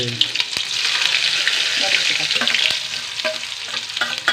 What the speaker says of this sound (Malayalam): ഇതെല്ലാം കൂടിയിട്ട് കറവറ നന്നായി വറുക്കുക